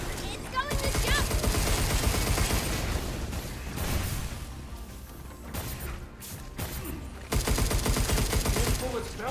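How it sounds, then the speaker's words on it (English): Rapid game gunfire rattles loudly and almost continuously through a busy, dense mix of music and effects in a lunar expedition video game, dipping briefly near the middle before surging back. "These bullets bounce right off."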